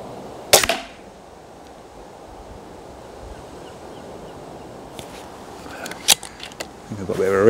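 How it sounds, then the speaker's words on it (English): A Reximex Lyra .22 calibre PCP air rifle fires outdoors, a sharp crack, then a few seconds later a second shot and a sharp ricochet off a nearby target, set against steady wind noise, with brief rustling at the end. "I've got a bit of a ricochet there because it came back through the middle."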